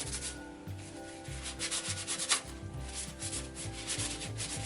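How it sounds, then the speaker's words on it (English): Continuous close sanding of a 3D-printed part for a full-scale Cerberus cosplay prop, a steady rough rubbing hiss with rhythmic strokes over a low droning hum in the background. "A little bit of sanding, a little buffing"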